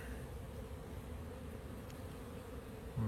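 A European hornet buzzes with a steady, low droning hum, faint and continuous for a few seconds.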